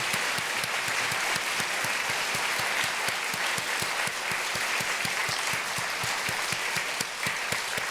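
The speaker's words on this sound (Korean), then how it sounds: "박수해 주시겠어요?" A church congregation at a New Year's Eve worship service claps steadily for about eight seconds, a dense, even wash of hand claps filling the hall, with no speech over it.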